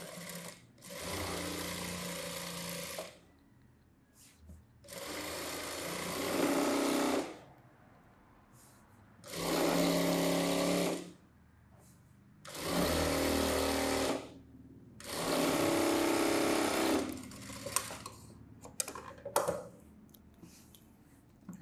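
Five bursts of sewing machine stitching along the edge of a boat neck saree blouse, each a few seconds long with quiet pauses between, close and fairly loud, with faint clicks at the end.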